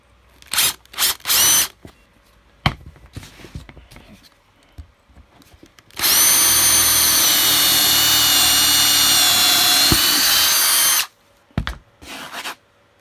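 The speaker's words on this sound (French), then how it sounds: "On va percer les trous." A power drill fitted with a 12 mm bit bores holes for a large 16-branch LED Christmas star, with short spin-up bursts at first and then a long, loud, steady whine lasting about five seconds before stopping.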